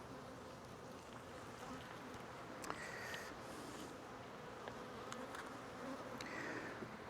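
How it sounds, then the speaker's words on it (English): Guard bees buzz close around a beehive during an inspection, a steady soft drone with a few individual bees passing near, faint and continuous. "There's probably about 3 buzzing me a little bit"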